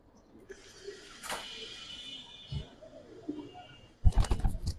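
Giribaz pigeons in a loft give faint, low cooing over a soft background hum, ending with a sudden burst of loud clattering and flapping close by.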